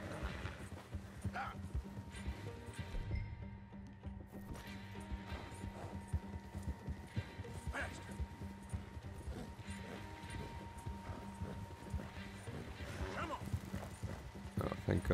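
Clip-clop of a horse galloping in Red Dead Redemption 2 during a chase, rhythmic hoofbeats running steadily under game music and spoken dialogue, with occasional louder knocks.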